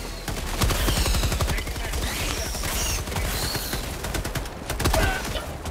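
Rapid automatic gunfire in the co-op shooter Helldivers 2, dense bursts of loud shots running through most of the stretch with brief gaps, mechanical clicks mixed in.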